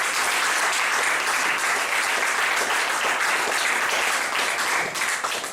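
A church congregation bursts into steady loud applause to acclaim the Lord, dense continuous clapping that holds evenly before tapering slightly at the end.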